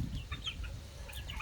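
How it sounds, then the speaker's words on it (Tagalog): Native chickens clucking softly in a farmyard, a few brief faint clucks scattered over a low background rumble. "So yan, daming manok"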